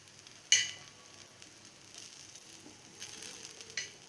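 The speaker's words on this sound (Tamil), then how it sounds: "இப்போ மேலேயும் கொஞ்சம் எண்ணெய் விட்டுக்கலாம்" Aloo chapathi, a thick potato-stuffed flatbread, fries in oil on a pan with a low, steady sizzle, a sharp crackle burst as oil hits the hot surface, and later flare-ups of spitting.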